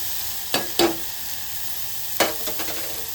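A tempering (phodni) for appe sizzles softly in a pan with the gas switched off, with a few short scraping, stirring clinks over a low steady hiss.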